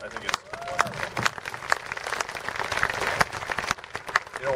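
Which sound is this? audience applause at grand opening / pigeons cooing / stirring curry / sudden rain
audience applause at grand opening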